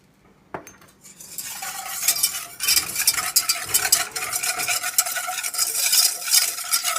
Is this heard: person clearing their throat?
no